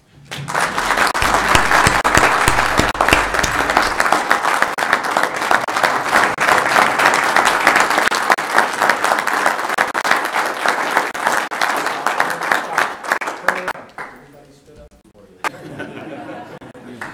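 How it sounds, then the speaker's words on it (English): Sustained applause from the audience at a Weber County Commission meeting, loud and dense clapping with crowd chatter and a little laughter mixed in, fading out near the end. "we're giving him an applause"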